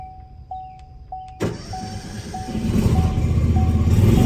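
A brush fire truck's foam skid unit pump cranks and starts after a few beeps, its engine settling into a loud, steady run that builds in volume.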